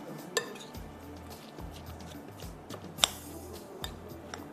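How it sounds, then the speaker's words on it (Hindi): A spoon clinks and scrapes around a bowl as mutton mince is mixed with yogurt marinade, with steady rhythmic stirring thuds and a few sharper metallic chinks, close and clear. "ज़रा सा मैं इसको अच्छी तरह से मिक्स कर लूँ।"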